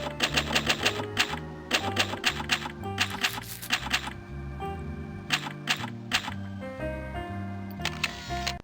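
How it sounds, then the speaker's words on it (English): Typewriter sound effect playing when saving in Spy Fox in Dry Cereal, with rapid bursts of clacking keys, a few pauses and a bell-like carriage ding, all close and loud with no voices. "these games use a typewriter sound effect for saving it"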